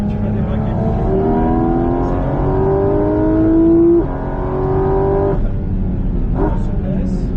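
A Porsche 718 GT4 RS on the Circuit de Bresse, its engine loud and close as it revs high and accelerates in rising sweeps, easing off briefly before pulling hard again.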